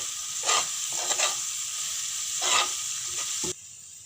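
Pav bhaji masala sizzles in a hot pan with a constant hiss, broken by a few scraping bursts of stirring.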